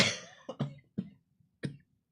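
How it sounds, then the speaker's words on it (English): A short burst of coughs, about four or five sharp hacking bursts close to the mic, with quiet gaps between them. "odd cough"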